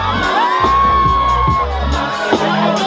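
Wedding guests at a party whoop and cheer together. The crowd noise is loud and busy, with shouts and a sharp bang in the mix, and music seems to be playing underneath.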